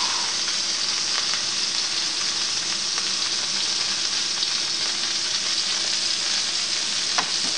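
Lamb patties fry in a pan with a steady, close, dense sizzle that holds even throughout, with faint pops and no talking.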